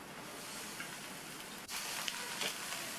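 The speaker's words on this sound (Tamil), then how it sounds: "புடலங்காயை சேர்த்துட்டு எண்ணெயிலேயே நல்லா 1 நிமிஷம் போல் வதக்கி விட்டுக்கணும்." Snake gourd sautéing in oil in a pan, a soft, steady crackling sizzle with a brief dip partway through, then slightly brighter spattering.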